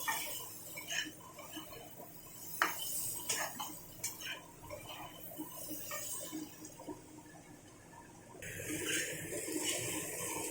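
A spatula chops fish pieces in a wok, making quiet, irregular taps and scrapes against the metal, with a soft sizzle building toward the end.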